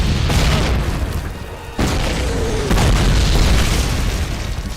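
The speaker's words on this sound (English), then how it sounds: "That's all the grenades." Grenade explosions in Call of Duty, heavy booming blasts in quick succession filling the clip, loud and close with dense rumbling low end.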